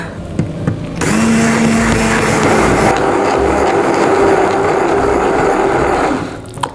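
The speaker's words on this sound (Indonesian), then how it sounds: "Kita aduk lagi biar praktis, pakai hand blender aja ya." A hand blender whirs into ash gourd batter for a steamed shrimp cake. After a short quiet start, a loud, steady motor hum runs for about five seconds, then cuts off.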